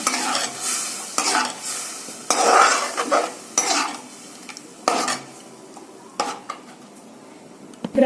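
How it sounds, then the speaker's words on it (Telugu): Chicken curry masala stirred in a pan over a low flame, Telangana style, a spoon scraping in bursts of several seconds with pauses between, over a faint sizzle, close and fairly loud. "సిలిండర్ సిమ్లో పెట్టి ఇలా కలుపుతూ ఉండాలి."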